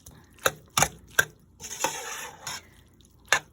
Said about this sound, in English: So, you stir that around.